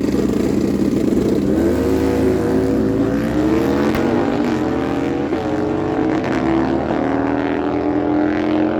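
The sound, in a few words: Harley-Davidson Screaming Eagle bagger motorcycle drag racing pass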